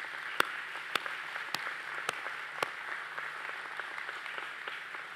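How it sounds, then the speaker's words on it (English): An audience at a corporate celebration for a catalyst production milestone claps steadily, a fairly quiet and distant patter of applause with a few sharper individual claps standing out. "And we would like to give you also a special applause for the great achievement we achieved here."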